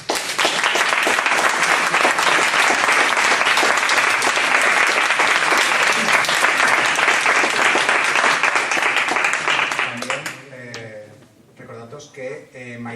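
Loud, sustained applause fills a hall at a conference on Aragon's minority languages and tourism. The dense clapping holds steady for about ten seconds, then drops away, leaving a voice speaking over the last few claps.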